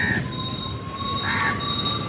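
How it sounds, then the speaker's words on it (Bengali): A tram rumbles steadily along street rails at Hatibagan market in Kolkata, with thin, high metallic squeals from the wheels riding over the continuous noise. "এখানে ট্রাম বেরোয়"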